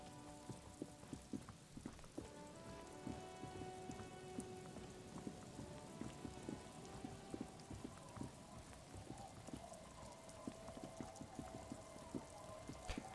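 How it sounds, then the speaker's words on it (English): Steady rain in the video game Disco Elysium, a dense patter of drops pattering on surfaces across the whole stretch, with faint tonal background music underneath and no talking. "Rainy day today."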